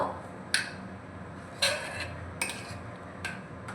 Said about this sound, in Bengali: তো একটু নাড়িয়ে নেব